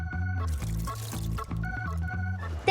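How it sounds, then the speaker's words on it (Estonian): Water poured into a stretchy rubber toy dinosaur, bubbling gurgles and glugs in a rhythmic pulsing pattern close up, ending with a brighter splashy burst. "Valmistu, Dino, nüüd täidan su veega."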